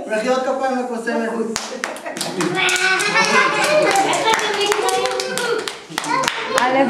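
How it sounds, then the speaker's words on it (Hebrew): A children's audience at a magic show claps for a female magician, a burst of loud, rapid applause close by with children's voices and talk mixed in, fading briefly before sharp claps resume. "מחיאות כפיים לקוסמת"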